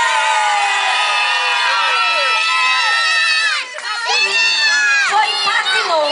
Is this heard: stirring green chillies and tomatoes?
no